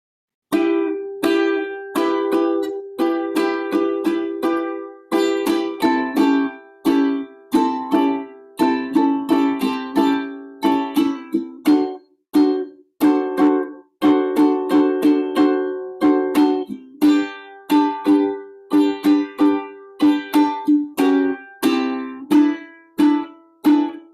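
An acoustic guitar plays chords in a bouncy calypso strumming rhythm, steady and clear, with no voices.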